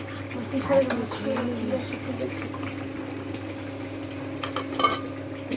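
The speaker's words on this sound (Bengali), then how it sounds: "এখন চিকেনটা কষছে, এটা শুকনো শুকনোই হবে।" Chicken sautéing dry with spices in a pan, with a spatula clinking and scraping a couple of times over a steady low cooking hiss and faint background voices.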